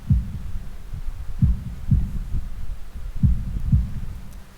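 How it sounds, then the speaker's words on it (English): A heartbeat in a visual novel video game thuds deep and muffled in paired lub-dub beats, repeating at a steady slow pace over a low hum. "holding my breath in an attempt to hear my heartbeat"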